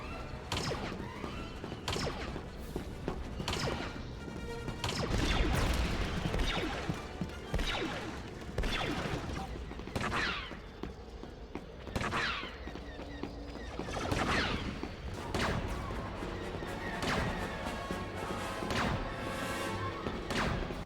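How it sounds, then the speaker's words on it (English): Blaster and weapon fire in the Star Wars: Battlefront video game, a run of sharp zapping shots, cracks and thuds in irregular bursts, with heavier impacts mixed in over a busy battle backdrop. "Not only do all of the weapons have their own designated sound effects"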